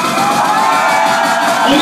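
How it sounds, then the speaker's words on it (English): A packed crowd at a dance-music concert screams and cheers loudly and continuously, with high shrieks and whoops of girls filling the room without pause. "All the girls in the house, ladies, somebody scream."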